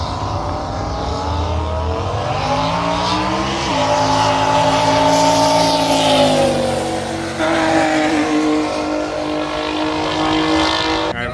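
Cyclone and Nissan GT-R drag racing at FL2K19, a loud, continuous roar of high-revving engines with rising pitch through gear changes, close and sustained.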